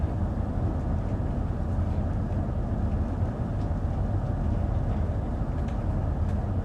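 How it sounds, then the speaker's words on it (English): In the Train Sim World 3 game, a train rolls into Stratford International station, giving a steady, dense low rumble that stays level throughout with no voices. "my train has to take its track and stop in the platform"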